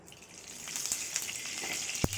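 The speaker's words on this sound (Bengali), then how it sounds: "এবার আমি সাদা তেল দিয়ে দিচ্ছি কড়াইয়ে" Vegetable oil goes into a preheated wok, making a soft sizzling hiss that swells over a couple of seconds, with light crackles and a sharp clack near the end.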